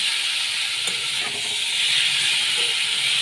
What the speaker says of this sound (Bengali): দু মিনিটের জন্য আমি ভালো করে কষিয়ে নিচ্ছি